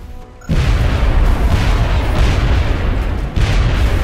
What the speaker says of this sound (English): Okay, throw that grenade.